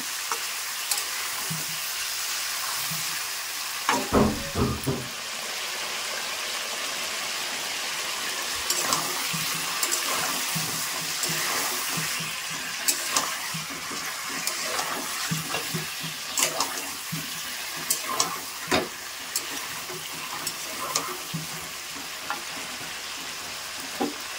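Chicken pieces seasoned with turmeric and salt fry in a pan with a continuous close sizzle, punctuated by scraping stirs and occasional clatters and knocks against the pan.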